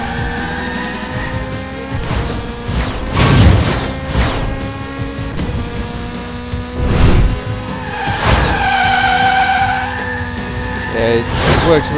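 A car drifting in a racing video game, tires squealing in long skids with engine revs and impact booms, loud and close throughout.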